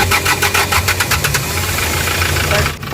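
A Hyundai Porter truck with an electrical short-circuit fault is cranked with a rapid rhythmic chatter, then its engine settles into a steady rumbling run. It sounds close and loud, with the engine noise continuing to the end.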